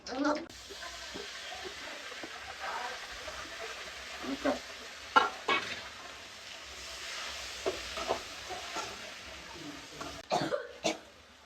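Several short coughs break out over a low kitchen sizzle of roasting food, with soft stirring sounds in between.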